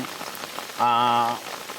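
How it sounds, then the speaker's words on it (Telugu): Steady, fairly loud rain patters on surfaces in hilly forest country, a dense continuous hiss broken midway by a short sustained tonal sound. "పైన ఆల్రెడీగా వర్షం వస్తుంది"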